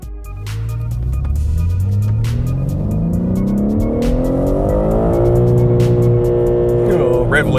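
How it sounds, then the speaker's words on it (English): A 2021 BMW M3 Competition's 3-litre straight-six twin-turbo engine, left in manual mode, revs up loud and close, its rising note flattening as it bounces off the rev limiter, with sharp clicks and pops scattered throughout. "Making all that noise, of course, is the engine, which is a 3-litre straight-six twin-turbo"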